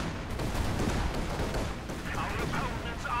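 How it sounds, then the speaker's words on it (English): A Soviet strafing run in Company of Heroes 2: a brief, dense rattle of rapid aircraft gunfire and impacts, with a voice talking over it. "we've got another Soviet strafing run going in already"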